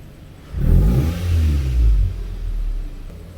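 A Toyota Camry 2.4 V fitted with a modified exhaust system is revved once from idle, rising into a deep, heavy, smooth roar that holds for over a second and then settles into a steady low rumble, close and loud.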